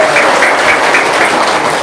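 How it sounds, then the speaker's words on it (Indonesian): An audience at an Indonesian talk event claps enthusiastically, a loud steady burst of close, dense applause filling the short moment. "Sekali lagi tepuk tangan dong yang meriah."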